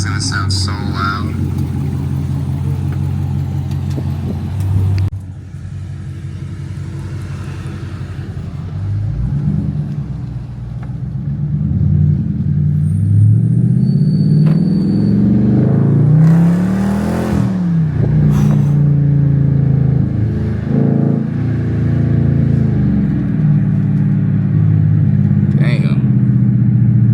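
Loud, raw exhaust from a straight-piped Dodge Charger R/T, idling low and then blipped repeatedly through a series of rising and falling revs, with brief talk in the background.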